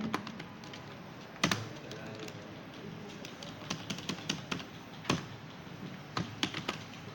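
Computer keyboard keys tapped while writing TypeScript code, a quiet irregular run of soft clicks and short bursts of keystrokes against light room noise.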